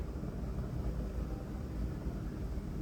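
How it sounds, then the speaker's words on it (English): Steady low rumble of helicopters circling over a Dodgers parade crowd in downtown Los Angeles at 5th and Flower, a constant broadband drone that stays loud and even with no talking. "You can hear some helicopters."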